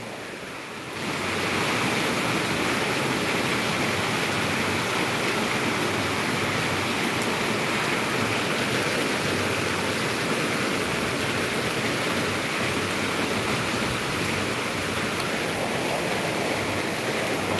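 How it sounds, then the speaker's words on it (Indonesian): Steady, dense rain hisses loudly and evenly throughout, a constant wash of noise with no voices. "Lagi hujan nih, susah orang pergi ke warung."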